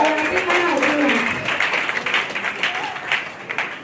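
A church congregation applauds and cheers for the Lord, a steady wash of clapping and voices that stays loud for a few seconds and then thins into scattered claps, with talking mixed in.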